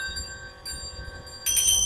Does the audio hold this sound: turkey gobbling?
no